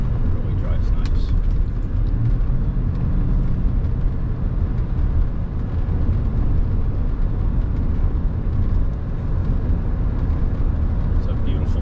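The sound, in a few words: 1991 Mercedes-Benz 420SEL car driving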